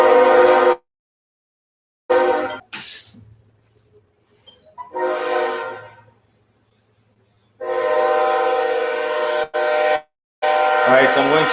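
A train passes at a distance, its horn sounding intermittently between bursts of nearby talking, with quiet gaps in between.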